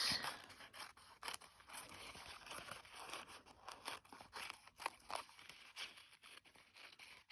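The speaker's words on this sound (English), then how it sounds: "I'm going to trim it first and then see what I need to stick down" Scissors trimming paper for a collage strip, a quiet run of crisp snips and rustling paper handling, close but faint, with irregular cuts spread across the stretch.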